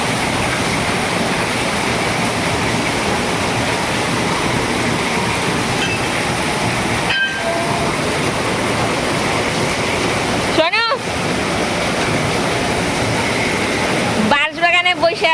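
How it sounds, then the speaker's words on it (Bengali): Heavy rain pours down in a steady, loud, dense wash that runs the whole time, with a few brief sharp interruptions near the middle and the end. "কি বৃষ্টি পড়ছে এদিকে।"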